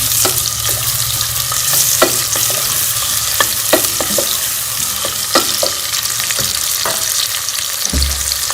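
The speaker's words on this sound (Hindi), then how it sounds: "प्याज को ब्राउन होने तक हम फ्राई कर लेंगे।" Onions frying in hot ghee for a chicken and green chickpea curry, a steady loud sizzle with repeated scraping clicks of a spoon stirring the pan, no voices.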